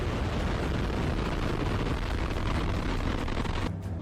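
A newly launched Russian military missile produces a loud, continuous broadband roar, dense and unbroken for several seconds before abruptly thinning at the end.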